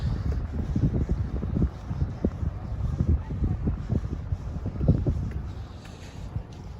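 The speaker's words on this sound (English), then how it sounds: "I don't know why it's so windy on this street comparative to the other streets." Strong wind blows along a Toronto street, buffeting the microphone in uneven, rumbling gusts that continue without pause for several seconds.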